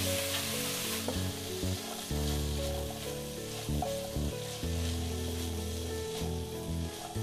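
Carrots, cauliflower and cabbage sauté in a pan for vegetable momo soup, a soft continuous sizzle beneath a strong steady tonal background that drops out and returns at intervals.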